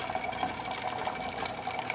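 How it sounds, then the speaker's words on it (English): A steady stream of hot water runs from a DeLonghi espresso machine's hot-water outlet during a tune-up, a continuous soft hiss and gush at low level. "As you can see, nice steady stream of hot water"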